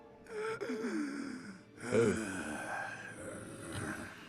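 A person's voice imitates labored, heavy breathing, producing a few drawn-out raspy gasps and wheezing breaths, soft and close to the microphone.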